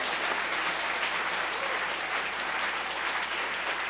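An audience at an annual sake tasting applauds the sake brewers with dense, sustained clapping that stays even throughout, with no speech over it.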